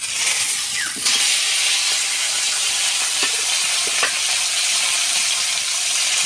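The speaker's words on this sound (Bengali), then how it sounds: "ভাজা তেলের ভেতরে সিমগুলো ভেজে নেব।" Flat beans fry in hot mustard oil, making a loud, unbroken sizzle right up close, with a few faint clinks of a utensil scattered through the hiss.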